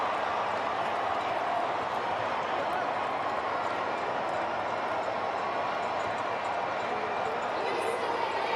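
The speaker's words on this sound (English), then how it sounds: "all the noise you can hear is coming from the Curaçaoan fans" Steady roar of Curaçao football fans cheering inside a World Cup stadium during a match against Germany, a continuous wash of crowd noise without breaks, heard from a distance.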